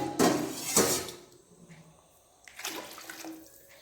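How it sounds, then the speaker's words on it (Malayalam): Boiled water poured from a glass onto rice in a pot for Ambur biryani, two loud splashing pours followed by softer trickling and a third pour, with no voices. "6 ഗ്ലാസ് വെള്ളം ഒഴിക്കുന്നുണ്ട്."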